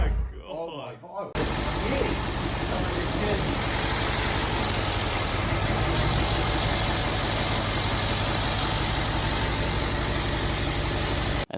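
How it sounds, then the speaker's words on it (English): Mercedes C63s, a crashed car, cranking and firing up, then settling into a steady, loud idle close by after a brief burst of excited voices at the start. "the car had started and seemed to be running fine"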